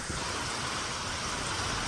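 Heavy rain pours down steadily in rural Amreli, Gujarat, a dense, loud hiss with gusting wind mixed in, continuous throughout and no voices.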